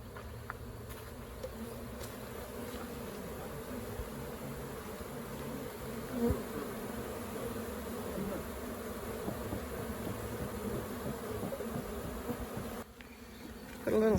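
Bees swarm and buzz inside the wall cavity of a house, a steady dense drone held close and loud throughout, with a brief dip near the end before it swells again.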